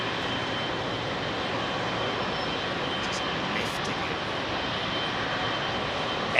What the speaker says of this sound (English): 777, big old set of General Electrics on her.